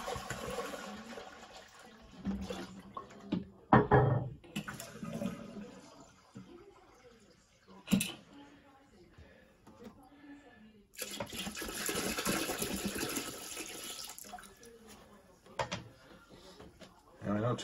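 Antifreeze is poured into a travel trailer toilet during winterizing, with bursts of gurgling, splashing liquid and a rushing flush-like pour, broken up by quieter stretches and nearby handling noises.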